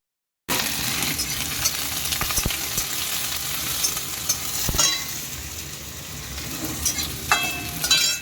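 Fish slides into hot oil for a curry, with dried red chillies and mustard seeds already in the pan. A steady close sizzle rises and crackles with small spits and pops, and a stirring clatter comes near the end. No one speaks.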